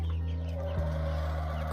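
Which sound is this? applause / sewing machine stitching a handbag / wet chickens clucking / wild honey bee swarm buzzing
wet chickens clucking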